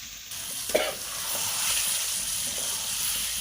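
Onions sizzle steadily in hot oil while tempering for a Bengali-style meat curry, a continuous close frying hiss broken by a sharp stir or clatter near the start.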